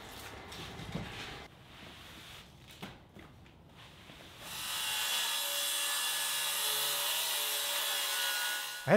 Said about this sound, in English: I had to trim up a little bit of the framing where it hung down low and would interfere with the rack